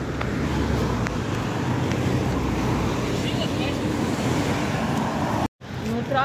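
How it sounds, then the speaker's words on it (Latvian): A motorboat moving on the Daugava river gives a steady, broad engine and water rumble that runs throughout, loud and near, with a brief dropout near the end. "Motorlaiva vēl brauc."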